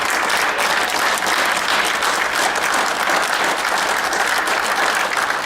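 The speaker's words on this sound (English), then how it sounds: "So can we give him a round of applause?" Loud, sustained applause from a crowd at a high school forum honoring a newly commissioned officer, dense steady clapping filling the whole stretch.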